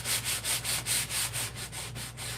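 Rhythmic back-and-forth scraping of a sanding block distressing painted wood, about ten even strokes, close and fairly loud.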